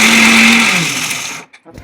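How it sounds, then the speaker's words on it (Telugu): Mixer grinder whirring loudly up close as it grinds roasted tempering spices, the motor tone dropping in pitch before cutting off abruptly, leaving brief quiet and a small rattle. "ముందుగా వేయించుకున్న తాలింపు సామాన్లను కాస్త మెత్తగా అయ్యేంత వరకు మిక్సీ పట్టాలి"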